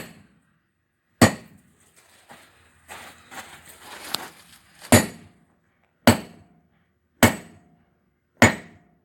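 A hammer strikes hot steel while forging a bottom fuller, with five loud, ringing blows spaced a second or so apart and softer clattering metal handling between the first strikes.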